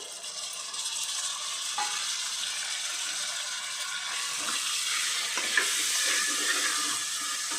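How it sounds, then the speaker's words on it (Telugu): Tomato pieces go into a hot frying pan of sautéed ingredients for khushka rice, producing a continuous hissing sizzle with a few soft splashes and pops, close and alone. "చూడండి టమాటా ముక్కలు వేస్తున్నాను"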